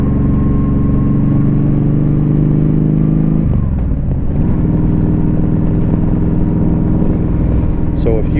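A 2015 Yamaha V Star 1300 Deluxe motorcycle rumbles steadily while riding, with a loud, constant low engine drone and a brief dip in pitch partway through as the rider shifts or eases off, then resumes.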